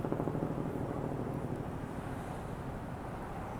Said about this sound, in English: So we hear the helicopters in the air.